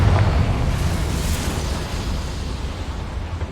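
Confringo fire spell blasting in Hogwarts Legacy, a loud fiery explosion with a deep rumbling boom at the start that rolls on as a sustained roaring burst.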